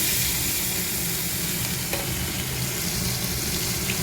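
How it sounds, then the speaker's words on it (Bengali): Two fish sizzling steadily in a pan of hot oil for a home breakfast, a continuous close, fairly loud frying hiss with no voices. "এই যে দুটো মাছ ভেজে দেবো"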